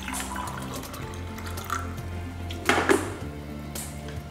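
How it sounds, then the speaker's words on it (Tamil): Warm water poured into flour to make a soft dough, a short liquid splash and trickle that swells briefly near the end amid faint background hum. "இந்த தண்ணியை கொஞ்சமாக ஊற்றிக்கலாம்."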